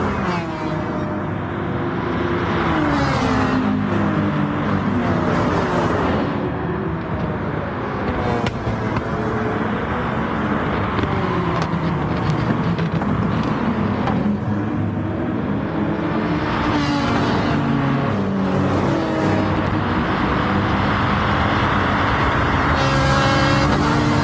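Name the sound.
race car engines in the video game Gran Turismo Sport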